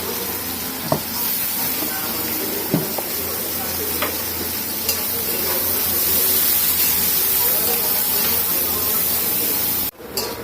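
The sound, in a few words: onion and chili frying in a pan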